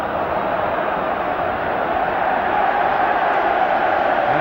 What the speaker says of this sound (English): Ironic cheers from the Hampden crowd.